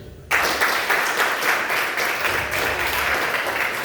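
A crowd at a comedy show breaks into clapping all at once and keeps it up evenly for several seconds, a full, close wash of hands with no talk over it.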